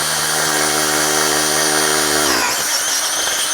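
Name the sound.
drill drilling out a rim hole for a rim lock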